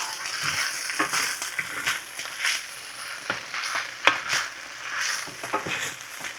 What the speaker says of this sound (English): Y'all can see I'm just frying this up.